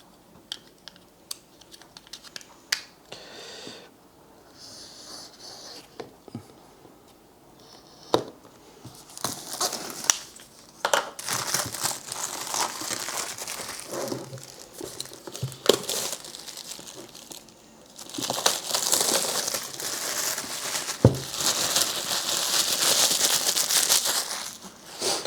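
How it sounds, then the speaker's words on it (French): A small cutter slices open the packaging of a Xiaomi Pad 6 Max 14 tablet, giving close scraping, crinkling and tearing of plastic and cardboard that grows denser and louder toward the end, with no talking. "On va utiliser le petit cutter ici."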